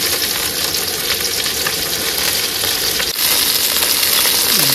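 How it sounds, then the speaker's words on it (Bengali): Fish fries in a wok of oil mixed with water, a loud, dense and continuous sizzle that holds steady from start to finish with no talking. "আজকে জলে তেলে মাছ ভেজে দিয়েছি"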